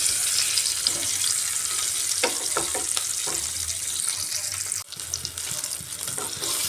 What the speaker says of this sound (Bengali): আলুগুলাকে এবারে উল্টে পাল্টে লাল লাল করে ফ্রাই করে নিচ্ছি এইভাবে